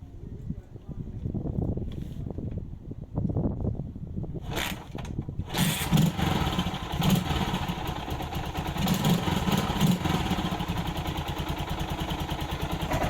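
An MT500 motorcycle with a Dellorto PHF34 carburettor clatters through a few cranking attempts, then starts without choke and settles into a steady, close idle.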